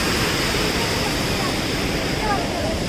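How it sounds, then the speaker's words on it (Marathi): A waterfall pouring between two hills, heard as a loud, unbroken broadband rush of falling water close by, with no distinct voices over it. "मधीन धबधबा आहे एक नंबर"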